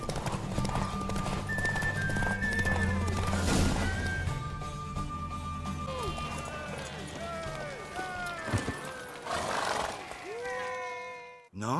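Horse hooves clip-clop at a galloping pace during a race in The Witcher 3, with a mare neighing and whinnying over the steady hoofbeats, plus a sharp crash near the end; loud and close.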